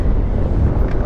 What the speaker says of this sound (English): it's pretty windy, 15k an hour wind